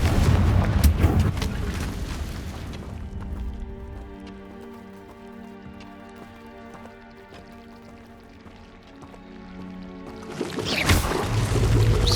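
A Confringo fire spell bursts in Hogwarts Legacy with a loud, deep explosive boom at the start, then a quieter stretch of tonal game ambience before another heavy rumbling blast at the end.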